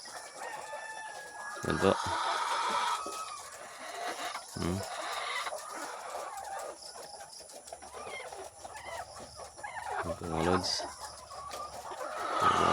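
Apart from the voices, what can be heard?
pet chickens clucking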